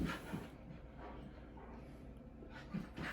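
Dogs panting and whimpering up close, with a few soft louder bursts, restless and continuous through the few seconds.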